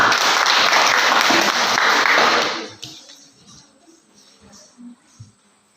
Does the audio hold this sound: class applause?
yes